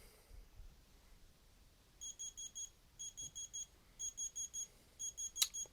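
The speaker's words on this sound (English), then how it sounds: "let's see what the alarm sounds like at 2:10" A high, electronic alarm from a Tommee Tippee Groclock children's clock beeps in quick bursts of four, repeating in steady groups after a quiet start, fairly faint with no talking.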